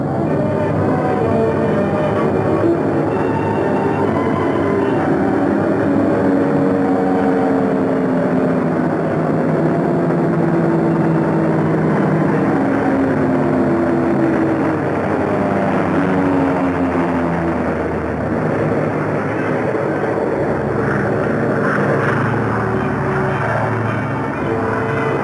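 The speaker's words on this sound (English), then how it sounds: "Bombers went out, and six are coming back." Several returning WWII bomber aircraft drone overhead, their propeller engines producing a continuous, fairly loud layered roar with slowly shifting pitch, heard alone without voices.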